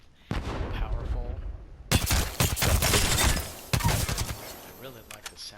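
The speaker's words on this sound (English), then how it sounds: "I really like the sound of this gun." Submachine gun fire in Apex Legends, a rapid automatic burst that sounds suppressed, coming in repeated loud volleys with short pauses between them and some overlapping game effects.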